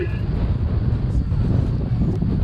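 Strong sea wind buffets the microphone during a wingfoil session at Gruissan, a constant loud rumbling roar with no letup, along with a faint voice.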